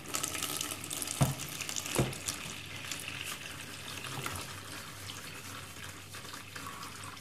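Filtered water pours steadily into a container while salted water is prepared for soaking lupini beans, a continuous close trickle with two brief knocks near the start and no talking.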